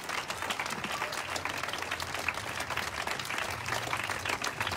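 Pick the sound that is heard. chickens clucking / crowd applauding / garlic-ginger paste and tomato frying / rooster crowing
crowd applauding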